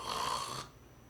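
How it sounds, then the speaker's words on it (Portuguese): A sleeping person snores once, a single rasping breath lasting about half a second that stops abruptly, heard alone and fairly quiet. "Então o sujeito está dormindo, ele está roncando."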